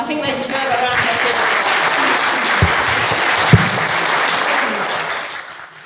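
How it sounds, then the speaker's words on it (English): Congregation applause in a church during a Sunday service, a sustained wash of clapping from a sizable crowd that holds steady for several seconds, then fades out near the end. "I think they deserve a round of applause."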